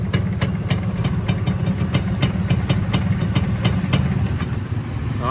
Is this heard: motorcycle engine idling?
yes